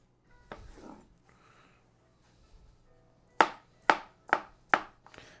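A knife rough-chops an English cucumber on a board, four crisp, evenly spaced cuts close to the microphone after some quieter handling and peeling sounds.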